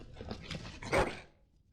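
A dog in the video game Dragon Age lets out a single short, close bark-like yelp over a faint game background.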